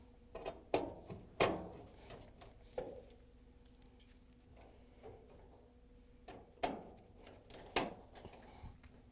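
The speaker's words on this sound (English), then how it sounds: "we can use a 5/16" nut driver to put the screws in." A 5/16-inch nut driver turns screws into a Maytag dryer bulkhead: scattered sharp clicks and ticks of the driver and parts, a few louder knocks, over a low steady hum, close and fairly quiet.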